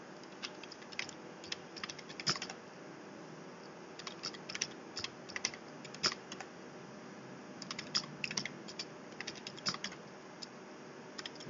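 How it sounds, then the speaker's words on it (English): Keys on a keyboard tap in uneven, quick clusters, faint and close, with no voices. "Here I type"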